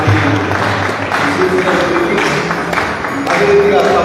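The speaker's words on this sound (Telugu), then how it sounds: "చప్పట్లు కొడతాము" An audience applauds at a college Christmas celebration in a hall, a dense, sustained patter of many hands filling the room for several seconds, with voices talking over it.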